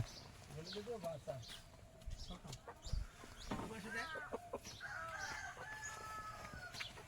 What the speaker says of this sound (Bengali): এই মুরগি ঘরটা দেখ দোতলা নিচে হাঁস উপরে মুরগি